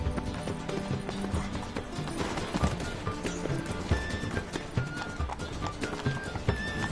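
A horse gallops in a video game, rapid rhythmic hoofbeats pounding close and steady under a wash of ambient game sound, with a brief whinny.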